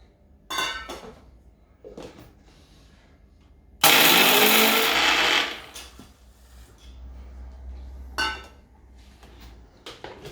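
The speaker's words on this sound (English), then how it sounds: "We need to grind the spice now." An electric spice grinder whirs loudly in one burst of about a second and a half while grinding cooled whole spices for a restaurant-style lamb saag, set among quieter kitchen clatter and handling noises.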